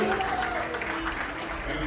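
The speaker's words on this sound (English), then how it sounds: "Big round of applause for Dr. Ji." Wedding guests at a Vivaah Sanskar ceremony give a round of applause, a dense wash of clapping with faint voices and a tonal hum underneath.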